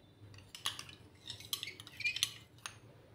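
A spoon scrapes and clinks against a pan while doi begun, eggplant in yogurt, is stirred, with soft irregular taps and scrapes close by and no talking.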